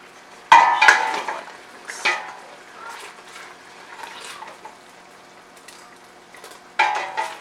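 Strawberry topping with vanilla extract bubbling in a pan while a spoon stirs and scrapes it, producing loud clanks at the start and end over a low simmer.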